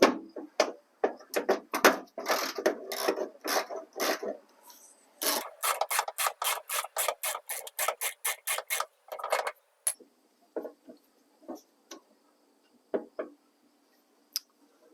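Ratcheting 10mm socket on an extension working a door bolt loose inside a Honda Civic rear door, heard as quick rhythmic rasping clicks in bursts, close up and fairly loud, then slower scattered ticks toward the end.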